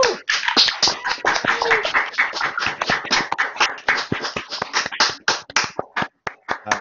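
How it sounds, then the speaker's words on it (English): An audience at an academic gathering on crisis and care claps for a presenter: dense, close applause that runs steadily, then thins into a few scattered claps before stopping. "Round of applause."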